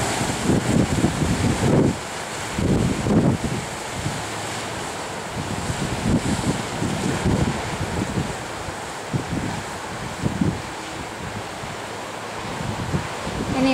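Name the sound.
ocean surf and wind at a Maui beach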